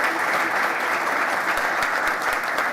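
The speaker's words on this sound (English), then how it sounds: "And I will ask the audience to give a round of applause for you." Audience at a science innovation forum fireside chat breaks into a sustained round of applause, dense steady clapping from a crowd filling the whole clip with no speech.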